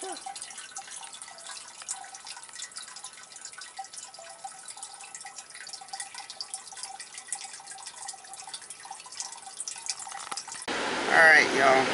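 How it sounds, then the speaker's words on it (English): Small decorative water fountains trickling, a continuous light babble of dripping and running water, fairly close and soft, steady throughout before a louder rustling handling sound at the end. "I don't know why I just love these little fountains."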